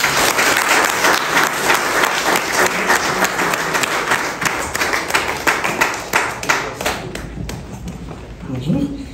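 Audience applause fills an awards ceremony at an African cooking competition, a loud, steady wash of many hands clapping that thins slightly toward the end, with some voices in the crowd.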